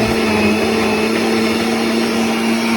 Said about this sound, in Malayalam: എന്നിട്ട് മിക്സിയിലിട്ട് നന്നായിട്ട് അടിച്ചെടുക്കും